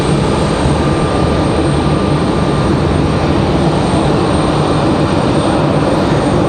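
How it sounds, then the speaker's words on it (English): A Southwest Airlines Boeing 737 MAX 8 jet departs at speed from Raleigh-Durham airport, its engines a loud, steady broadband roar that holds close and continuous throughout. "So we got a Southwest doing Southwest things, speeding out of here, max 8."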